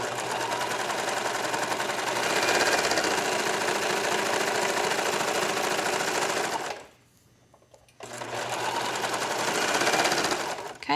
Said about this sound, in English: now we're sewing the second side seam